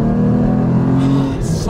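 A Porsche 981 Cayman GT4 with a manual gearbox drones steadily and loudly under load in first gear, its engine note holding close and continuous.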